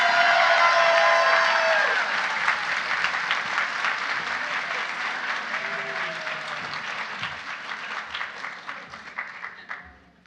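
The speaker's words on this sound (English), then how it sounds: "Let's give them a big round of applause." Loud sustained applause from a large crowd at a college nursing pinning ceremony, dense clapping that slowly thins and fades toward the end.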